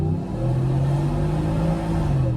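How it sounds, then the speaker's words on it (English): A supercharged 2025 Ford F-150 in sport mode, two-wheel drive with traction off, accelerating at full throttle from a rolling start; a loud, steady engine drone with a slowly rising tone, heard from inside the cab. "Let's give it full throttle from a 30 roll."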